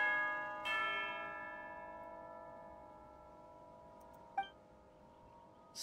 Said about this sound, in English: Sound of a bell.